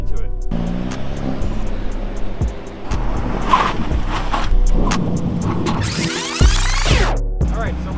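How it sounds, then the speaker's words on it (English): A Hyundai Elantra N accelerates to about 30 mph with a rising engine note, then brakes hard to a stop beside a cone, tyres squealing briefly near the end; steady road and wind noise throughout. "We're going to go 30 miles an hour, and then once I hit the cone, I am going to lock up the brakes"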